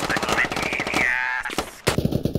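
Rapid bursts of gunfire in the video game Squad crackle loudly, with a sharp shot near the end, while a person talks over the shooting.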